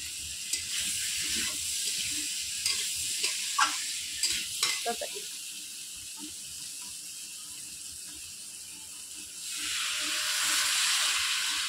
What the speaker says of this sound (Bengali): তরকারি কষা চলছে।